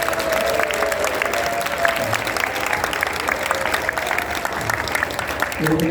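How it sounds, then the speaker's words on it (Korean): A church congregation applauds soldiers who served and sang at a worship service, giving a steady round of clapping with a few voices and tonal sounds mixed in above it. "우리 군장병들을 위해서 큰 박수 한번 쳐주세요."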